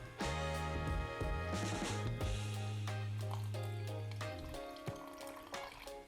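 Filtered water pours steadily into a soup pot with leftover vegetables for a few seconds, the filling tone shifting as it rises, followed by a few clinks and drips.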